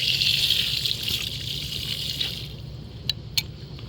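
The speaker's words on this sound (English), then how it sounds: "And here is another tap with free water." Water runs steadily from a free public tap at Ormos Panagia harbour, a continuous close gush that eases off near the end, followed by two short sharp knocks.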